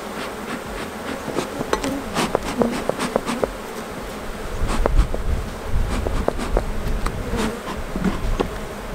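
Honey bees swarm around an opened hive during an inspection in Minnesota, a dense, loud buzzing close by with individual bees zipping past the ear, plus occasional knocks and handling noises from the hive frames.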